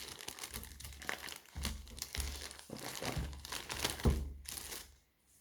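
Cheese seasoned with seaweed and cloves is unwrapped from its packaging, giving close, loud crinkling and crumpling in repeated bursts with a few sharper tearing crackles, ending in quiet.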